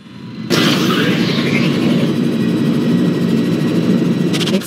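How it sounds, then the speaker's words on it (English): Spaceship engines roar at maximum thrust in the space combat game Rebel Galaxy, a loud, dense rumble that kicks in abruptly after a brief quiet start and holds steady to the end. "Engines at maximum."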